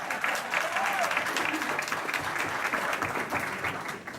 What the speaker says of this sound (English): everyone applause for this